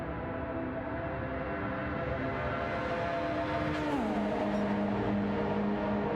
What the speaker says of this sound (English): Listen to the scream of that Mazda as well. It sounds like a Formula 1 car.